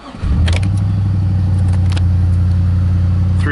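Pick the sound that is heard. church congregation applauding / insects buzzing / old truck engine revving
old truck engine revving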